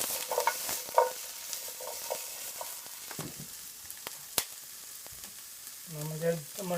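Red pepper frying in a pan with scattered sizzling and clattering stirring strokes, a few sharp knocks against the pan, and a short hiss of steam near the end.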